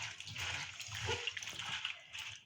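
Cauliflower pieces being rinsed in hot water in a home kitchen, with splashing and running water sloshing steadily up close, no talking.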